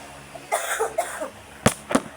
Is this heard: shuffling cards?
no